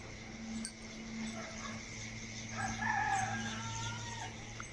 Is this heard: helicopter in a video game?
no